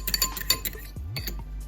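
A utensil scrapes and clinks against a pan while stirring vegan cheese eggs made with nutritional yeast, a few quick metallic taps and a short scraping sweep.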